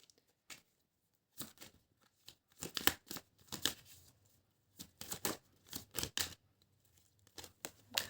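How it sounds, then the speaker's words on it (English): Tarot cards being shuffled by hand, intermittent crisp riffles and papery flicks in short bursts with quiet gaps between, close and fairly soft. "Let me shuffle them properly first."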